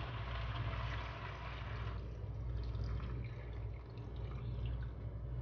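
Water poured into a bowl of pickled chile perón peppers and cauliflower, a steady, close splashing flow that shifts partway through and continues without talk.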